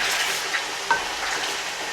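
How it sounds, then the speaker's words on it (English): Beef pasanda fries in oil in a pot with a little water still left, a steady close hiss and sizzle with a couple of soft taps of a spoon against the pot. "bhunna typically means frying in oil when slight water is still left, just to give it a very nice flavor"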